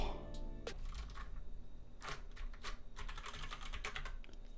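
Typing on a SteelSeries Apex keyboard, a close run of quick, irregular key clicks and clacks that bunch into busy flurries, heard alone without voices.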